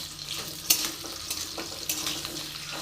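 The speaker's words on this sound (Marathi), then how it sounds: "अगोदर बटाटा टाकून घेणार आहे. फक्त आपल्याला हलक्या भाजायचे आहेत." Potatoes frying lightly in a little oil for vegetable biryani, a steady close sizzle broken by a few sharp spatula scrapes and taps against the pan.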